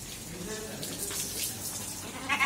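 Water splashes and pours steadily over a cow close by, with a brief bleat or voice near the end.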